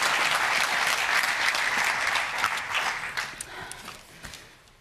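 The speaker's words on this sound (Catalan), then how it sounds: "Podeu aplaudir, eh?" A studio audience applauds guest Ernest Maragall on a television show, a dense, loud burst of clapping that thins out and softens toward the end, leaving a few scattered claps.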